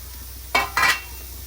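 Chopped onion dry-roasts in a pan on a tawa, heard as two short, scraping stirs against the metal over a faint background hiss.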